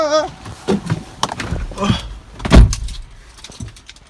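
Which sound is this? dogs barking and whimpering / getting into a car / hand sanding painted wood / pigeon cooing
getting into a car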